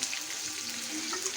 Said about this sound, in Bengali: এই যে মাখিয়ে রাখা মাংসটা এটা দিয়ে দেবো